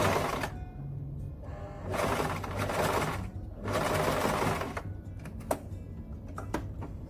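A sewing machine stitches satin wide-legged pants in several close bursts of rapid mechanical chatter, with short pauses and small clicks and taps between runs and no talk.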